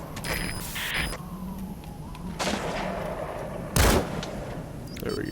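An upgraded sniper rifle fires in a video game, a few sharp separate cracks over a busy backdrop of game ambience, with one especially loud close shot standing out partway through.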